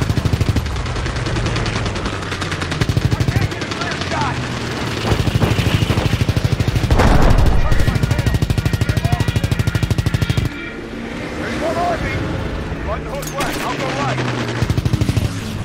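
Call of Duty: WWII gunfire: continuous machine-gun rattle with layered rifle shots, loud and close, pausing briefly before resuming in bursts, with game music and ambience underneath.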